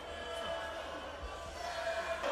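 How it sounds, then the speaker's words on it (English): Rowdy arena crowd at a WWE SmackDown wrestling event, a dense, steady murmur of shouting fans with scattered yells rising near the end. "Rowdy crowd here tonight."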